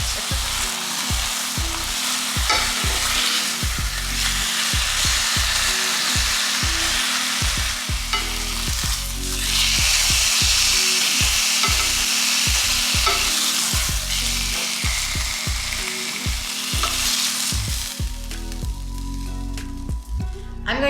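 Chicken breast pieces browning in a frying pan for a cilantro sauce dish, a loud steady sizzle and crackle of hot oil with repeated rhythmic scraping and stirring taps from a utensil throughout.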